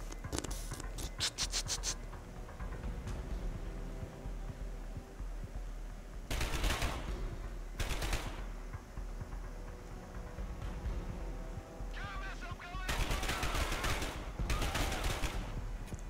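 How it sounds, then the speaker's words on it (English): Bursts of rapid automatic gunfire in the game Dark Sector, several sharp volleys of varying length separated by quieter stretches with faint scraping and background effects. "Just keep shooting them until they're dead."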